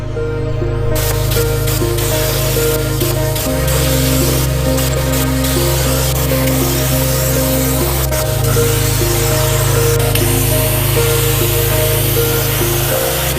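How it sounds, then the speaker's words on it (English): Steel tube parts being welded on a car's tube front end, a 240SX: a loud, steady buzzing hiss with droning harmonic tones whose pitch shifts in stages, running continuously without pause and without talk. "I'm just kind of welding up some of the parts now"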